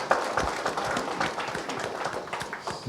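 A modest group at a drivers' meeting claps steadily, individual claps audible in a loose, uneven patter that gradually softens.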